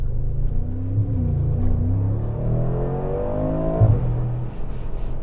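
Mercedes G63 G-Class engine revving and accelerating on a drive through Scotland, with deep rumble and rising gear pulls that climb in pitch, then a sharp shift and a drop back to a low cruise.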